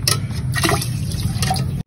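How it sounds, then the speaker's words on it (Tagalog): Water poured from a container into a pot of washed rice before cooking over a wood fire, a steady close splashing gush that runs continuously and then cuts off abruptly. "Isa't kalahati yung ilalagay natin na tubig."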